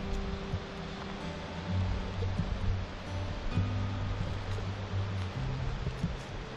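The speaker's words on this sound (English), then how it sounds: "you can hear that river roaring down there" River roaring below a mountain trail in the Great Smoky Mountains, a steady distant rush under a low hum and faint nearby rustling, with no talk.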